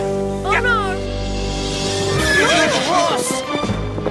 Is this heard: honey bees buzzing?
no